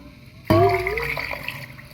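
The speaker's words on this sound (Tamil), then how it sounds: "ஒரு 2 டம்ளர் அளவுக்கு தண்ணி சேர்த்து இது ஒரு 5-6 விசில் விட்டு வேக விட்டுக்கலாம்." Water poured into a pressure cooker holding marinated mutton for biryani, a sudden splashing gush that starts abruptly, then settles into a steady trickling pour with no talk.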